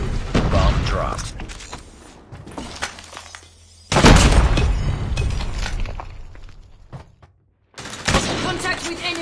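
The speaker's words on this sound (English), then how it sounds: "sniper! Bomb dropped." A bomb drops and detonates in COD Mobile, a burst of heavy explosive crashes and debris landing loud and close, with a second big blast a few seconds later and a radio-style voice talking over the din.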